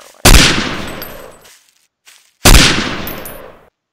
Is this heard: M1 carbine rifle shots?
yes